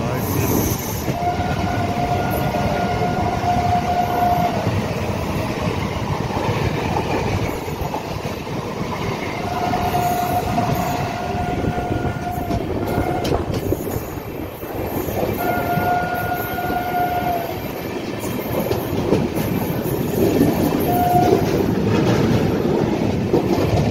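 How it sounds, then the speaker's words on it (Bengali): Sairang Express passenger train rolling through Dum Dum Junction out of Sealdah, gathering speed with steady rumble and wheel clatter, repeated horn blasts rising over the continuous rail noise. "দমদম জংশনকে স্কিপ করছে সাইরাঙ্গা এক্সপ্রেস, এবার আস্তে আস্তে গতি ধরছে সাইরাঙ্গা এক্সপ্রেস।"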